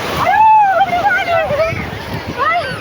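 Water rushing and splashing in a strong current around people, a loud continuous slosh under excited talking and shouting voices close by.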